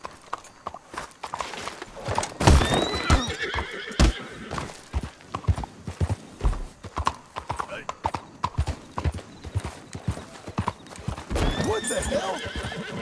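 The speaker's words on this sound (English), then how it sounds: "I just wanted to hit John with the horse" Horse hooves clip-clopping at a steady walk in Red Dead Redemption 2, with repeated whinnies and neighs rising above the hoofbeats, under scattered game sounds and someone talking.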